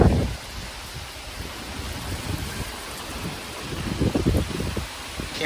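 Heavy rain pours down steadily during a severe thunderstorm with gusty wind, low rumbling swells rising at the start and again near the end, no voices present.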